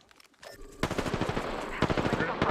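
Gunfire in a tactical shooter video game, a dense rattling string of rapid shots building into sustained automatic fire with heavier reports mixed in, loud and close.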